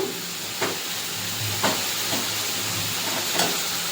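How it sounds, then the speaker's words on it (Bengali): Ground turmeric, cumin and chilli sizzle and fry with banana flower and prawns in a pan, a steady hiss broken by several soft scraping stirs. "গুঁড়ো মশলাটা দিয়ে ভালো করে মোচার সঙ্গে কষিয়ে নেব"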